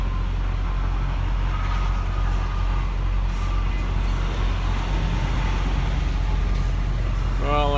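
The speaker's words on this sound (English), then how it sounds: "They got a Greyhound bus here." A Greyhound bus idling nearby among road traffic, a loud steady low engine rumble running throughout, with a brief squeal or brake hiss near the end.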